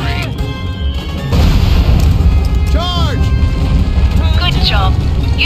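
Airstrike bombs blasting in the Mercenaries: Playground of Destruction video game, a loud rumbling roar of explosions that builds and keeps going, with whistling sweeps on top and a voice talking over it.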